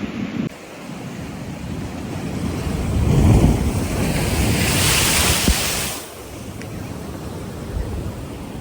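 Rough ocean surf breaks on rocks along an Anguilla shoreline, a loud, steady wash that swells and peaks for a few seconds mid-clip before easing, with wind buffeting the microphone.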